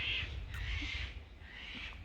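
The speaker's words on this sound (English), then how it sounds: "Oh, the parrots this morning." Parrots call in the early morning, several harsh squawking cries spaced about half a second apart, faint and somewhat distant over a low outdoor hum, with no talking.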